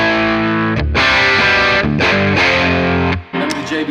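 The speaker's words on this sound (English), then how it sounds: "I like mixing the JB2 along with the lead channel so that you can hear how much saturation you can get out of it too" Heavily saturated electric guitar through the lead channel of a BOSS Nextone amp with a JB2 overdrive pedal: loud, thick sustained chords and riffs that shift every half second or so, with a brief dropout near the end.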